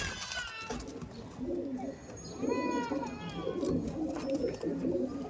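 Pigeons of a Punjab breed being released and handled, with repeated soft throaty cooing and rolling calls close by, layered over faint background chatter.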